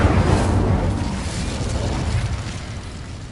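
An Incendio fire spell cast in the Hogwarts Legacy video game erupts in a loud fiery burst and rumbling whoosh, then gradually tapers into a softer roaring crackle.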